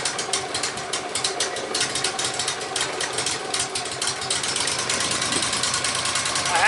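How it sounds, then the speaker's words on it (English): A Wood-Mizer LT15 sawmill's small engine runs at a fast, steady idle just after a light-choke start, a close rattling drone that holds level throughout with no talk over it. "I'm just going to choke it very little to start it."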